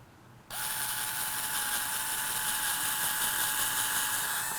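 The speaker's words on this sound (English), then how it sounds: "would you drill a hole right in the middle?" A drill starts abruptly and whirs steadily at a high pitch, a continuous mechanical whine close by.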